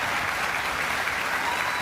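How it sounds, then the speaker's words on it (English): A big round of applause from a live audience at a Most Haunted event at Tudor World in Stratford-upon-Avon, a loud, continuous wall of clapping filling the whole brief moment. "I think everyone deserves a very big round of applause."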